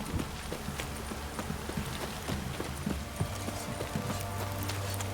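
Horse hooves clip-clop in a steady walking rhythm in the video game The Witcher 3: Wild Hunt, close and continuous over a low ambient game soundscape.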